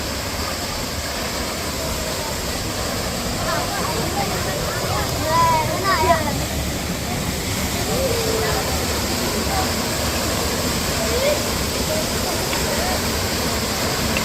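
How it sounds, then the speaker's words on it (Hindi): A waterfall at Chauras in Himachal, fed from high in the Churdhar range, gives a steady broadband roar of falling water that holds without a break, with faint voices nearby. "ये हो झरना,"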